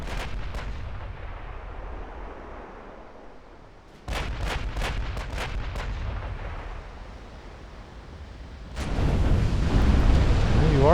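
Battleship guns fire in Ultimate Admiral Dreadnoughts, deep booming salvos with rumbling tails, a cluster of several rapid blasts midway and another heavy volley near the end over continuous low roar.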